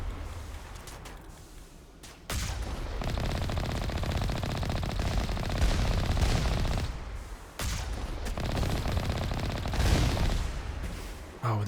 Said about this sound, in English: You're getting hammered with rockets right now